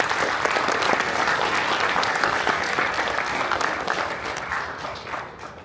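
A large audience at a company townhall marking a ten-year anniversary applauds in a dense, sustained roar of clapping that holds steady for several seconds and tapers slightly near the end.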